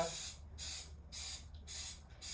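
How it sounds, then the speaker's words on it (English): Baking spray hisses from an aerosol can into the wells of a non-stick baking pan, four short close bursts separated by brief pauses, with no talking. "I'm going to go ahead and spray my wells with baking spray."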